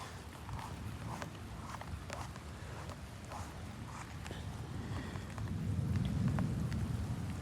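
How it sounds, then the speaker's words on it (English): Steady rain from a thunderstorm in Garretson, South Dakota patters in the background with scattered drips and taps, the rushing noise swelling slightly louder toward the end. "It's still raining as I speak."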